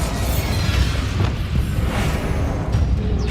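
Booming explosive blasts from a Hogwarts Legacy spell fight, with thick low rumbling and a few sharp cracks that repeat over several seconds under steady, loud battle noise.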